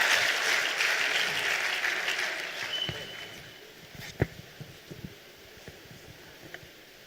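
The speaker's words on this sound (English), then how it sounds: "A big round of applause for you," Applause from an audience at a Nigerian Immigration Service anniversary ceremony, fairly loud at first then dying away into a few scattered claps and faint room noise.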